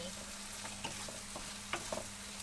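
Pork browns in a pan with a quiet, steady sizzle, broken by occasional scrapes and clicks of stirring against the cookware.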